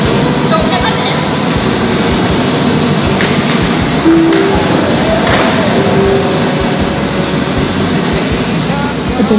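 A train rumbles loudly and continuously close by at a station platform, with screeching tones and mechanical clatter, and people speaking over the noise.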